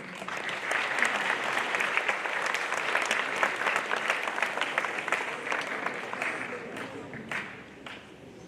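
Sustained audience applause fills a school awards ceremony for top matric achievers, steady clapping from a large crowd that carries on for several seconds before tapering off near the end.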